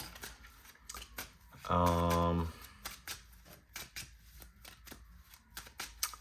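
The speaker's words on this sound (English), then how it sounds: "So we shuffled our deck." A rapid riffle of a trading card game deck fluttering together sounds for about half a second, followed by quick clicking taps and soft handling noises nearby.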